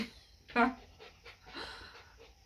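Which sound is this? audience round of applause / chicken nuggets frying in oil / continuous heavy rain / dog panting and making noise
dog panting and making noise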